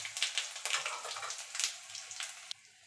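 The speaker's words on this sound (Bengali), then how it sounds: "তো ফোড়নটা একটুখানি ভাজা ভাজা করে নেব" Whole cumin, whole garam masala and green chillies crackle and sizzle in hot oil for a tempering, a busy close spitting hiss with small pops that drops suddenly near the end.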